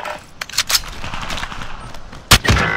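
Gunfire in Call of Duty Warzone comes as scattered shots, some faint and distant and a few close and sharp, ending in a louder double shot near the end.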